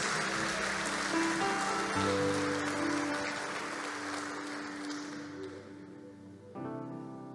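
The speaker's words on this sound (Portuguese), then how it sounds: "Será que você pode aplaudir a presença de Jesus?" A church congregation applauds during an evening worship service, a steady wash of clapping that holds for several seconds, then thins and gives way to sustained keyboard or organ tones near the end.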